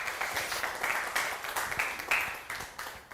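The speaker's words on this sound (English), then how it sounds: "let's give them a round of applause" An audience at an evening education awards ceremony applauds a team, a steady, moderately loud patter of many hands sustained for a few seconds without speech.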